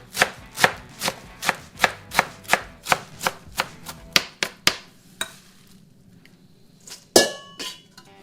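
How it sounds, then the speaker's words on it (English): A knife roughly chops fresh herbs, mint among them, on a board: a run of about fifteen crisp, evenly spaced thuds that slow and thin out, followed by a few scattered knocks and a clatter, close up with no voices. "So I will give them a rough chop."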